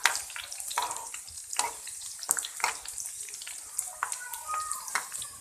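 Garlic, red chilies and curry leaves fry in hot oil for a Hyderabadi pakora curry, giving a steady dense crackle with sharp pops and bursts as leaves hit the pan, close and moderately loud throughout.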